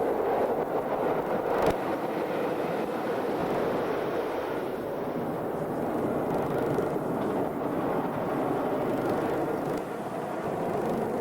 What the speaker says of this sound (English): It's the perfect spot to wait for a glimpse of the occasional steam train.